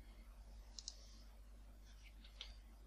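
A few faint computer mouse clicks sound as a folder is opened, with a double click early on and a couple of single clicks later, over a low steady hum.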